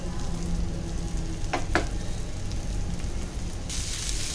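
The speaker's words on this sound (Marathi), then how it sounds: "दोन्ही बाजूने लालसर रंग येईपर्यंत छान फ्राय करून घ्यायचं आहे" Prawns fry steadily in hot oil to a crisp, giving a loud, continuous sizzle with a couple of brief sharp clinks partway through and a brighter burst of frying near the end, with no voices.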